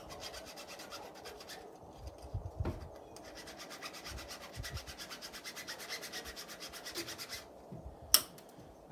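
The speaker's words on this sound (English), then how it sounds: "I like to file by sticking my fingers through each hole, and then that way I can just rub the file on it." A hand file rubs back and forth over sharp snipped metal edges of a snow bunting trap, producing steady rhythmic rasping strokes close by, with a couple of louder knocks.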